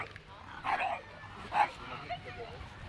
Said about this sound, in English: That dog sounds like something of Ghostbusters, doesn't it?